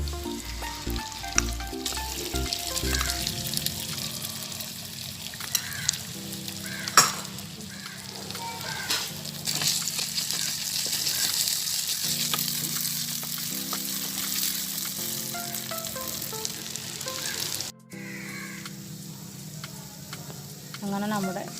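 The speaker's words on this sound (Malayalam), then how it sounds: "ഇനി ഒരു പാൻ അടുപ്പിൽ വെച്ച് ഒന്ന് ചൂടാകുമ്പോൾ അതിലേക്ക് കുറച്ച് ഓയിൽ ഒഴിച്ച് നേരത്തെ ചെയ്ത് വെച്ച ചിക്കൻ ഫ്രൈ ചെയ്തെടുക്കാം" Chicken fries in hot oil in a pan with a continuous crackling sizzle, broken by frequent utensil clinks, scrapes and stirring knocks heard up close.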